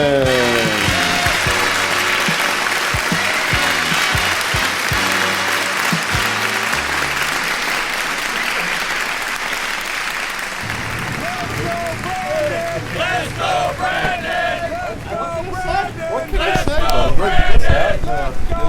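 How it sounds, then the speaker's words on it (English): A studio audience at a comedy show applauds and cheers loudly and steadily, clapping swelling again near the end as the crowd erupts. "we've got an excited crowd here today at the CB studio"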